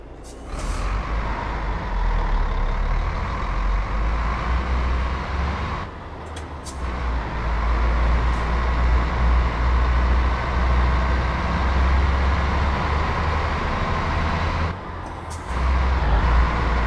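A Mercedes-Benz bus engine sound mod in a bus driving video game, a steady low engine drone running on with a few brief breaks, like air brake releases or gear shifts, with no talking.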